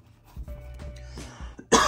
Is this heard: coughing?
yes